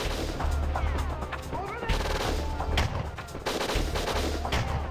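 Dense, continuous gunfire in the N64 video game WinBack crackles and booms throughout, with rapid overlapping shots and explosive bursts forming a loud, chaotic battle din.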